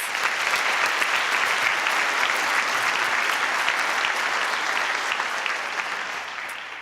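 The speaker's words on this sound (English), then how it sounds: "Let's one more round of applause for Mr. Will Davis." Sustained, dense audience applause fills a student awards ceremony, steady and fairly loud throughout before easing off slightly at the end, with no speech over it.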